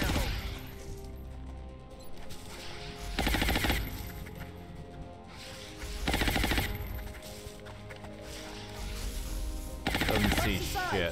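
Bursts of suppressing gunfire in XCOM Long War come in three separate sustained volleys of rapid automatic shots, with quieter gaps between them.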